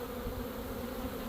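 Dense honeybee buzzing swarms steadily during a hive install, a continuous close hum with no talk.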